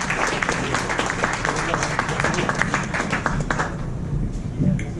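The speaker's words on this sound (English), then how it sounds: "Let's give it another round of applause for Avery Coachman." An audience at an arts and activism gathering claps in a dense, continuous round of applause that tapers slightly toward the end, with faint voices underneath.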